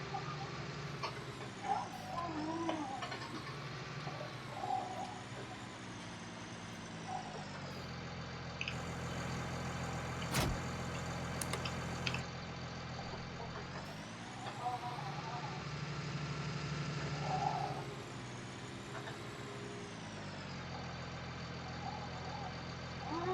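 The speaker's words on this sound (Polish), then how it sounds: "Jedziemy testować nasz nowy silnik." Tractor engine with a newly fitted motor in the Farming Simulator 19 video game, a steady low mechanical drone that swells and dips as it drives, with a few brief beeps and clunks over it.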